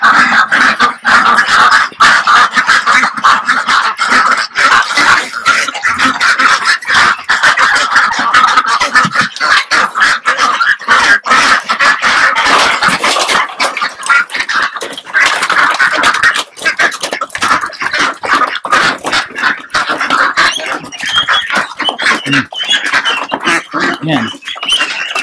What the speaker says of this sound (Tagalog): Titingnan natin yan kung gaano ka excited yung mga pecking duck.